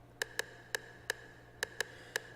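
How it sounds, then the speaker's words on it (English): Sharp electronic clicks from a TR-808 drum machine tick in an uneven rhythm, seven of them, quiet and crisp with a short reverb-heavy ringing tail over a faint low hum. "you can hear the clicking sound from the TR-808 there"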